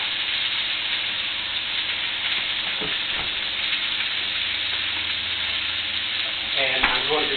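Beef jus and red wine reduction sizzling in a pan, a steady loud hiss and crackle continuing without break, with faint clinks and a slight stir near the end.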